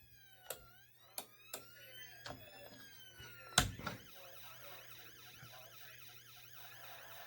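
A police siren wail plays faintly through the PA of a Crown Victoria police car, rising and falling in slow sweeps, broken by several sharp clunks and a louder knock midway.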